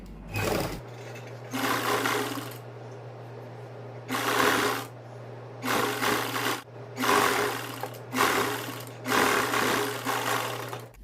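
Sewing machine stitching pleats on a ladies suit, running in six or seven whirring bursts of about a second each, with short pauses between and a steady low motor hum throughout, close and fairly loud.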